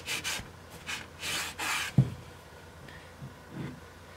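A rag rubs and wipes wet wood glue off a freshly glued wooden joint on a cider press under repair, giving several soft, brief scrubbing swishes near the mic, followed by a faint knock.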